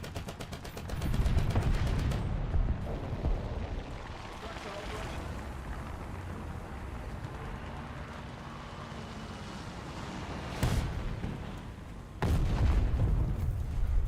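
Gunfire in the Junk Thunder video game comes as heavy booming bursts and rumbling blasts, loud and close, with sharp impacts near the end, set over continuous game noise.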